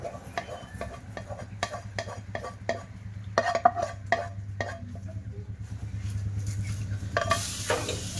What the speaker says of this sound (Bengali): যে দুধটা আমি জাল করতে দিয়েছিলাম ক্যারামেলটা বানিয়েছিলাম ওই ক্যারামেলটা দুধের মধ্যে দিয়ে দেবো